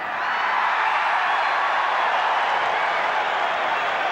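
A rugby crowd at a 1984 Bledisloe Cup Test between Australia and New Zealand roars and applauds a successful Robbie Deans penalty goal, a dense, sustained wash of cheering and clapping that holds steady throughout.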